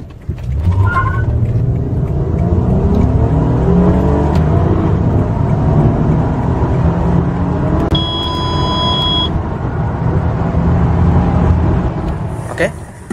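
A 2008 Toyota Camry's 3.5-litre V6 runs at a steady idle throughout, with low engine rumble and a brief rev, while a person talks over it.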